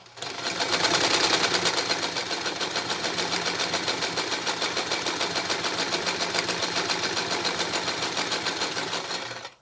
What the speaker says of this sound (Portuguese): Então, vou passar a costura.